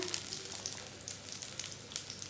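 Onions and green chilies frying in a pan while pasta is prepared, a soft, low-level sizzle with light crackles and faint stirring, heard alone.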